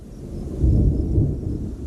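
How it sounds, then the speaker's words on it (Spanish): Low rolling thunder from a distant thunderstorm in the Namib rumbles, swelling and fading over a couple of seconds with no voices. "Las tormentas que se oyen en la distancia llevan varios días creciendo."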